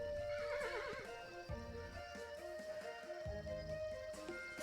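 A horse neighs and whinnies in the video game Kingdom Two Crowns, loud and close, with hoof clip-clop and game ambience running underneath.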